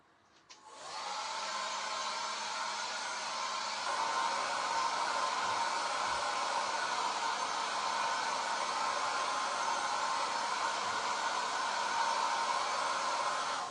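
A hair dryer blows on wet chalk paint, switching on after a moment and then running as a steady, close, loud whoosh with no talk over it.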